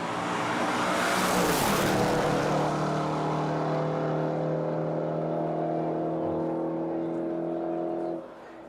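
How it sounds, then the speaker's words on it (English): Range Rover race car on a top-speed run, roaring past close and loud, then its engine note fading and drawing out as it speeds away. "Just love the sound of this thing when it comes past us."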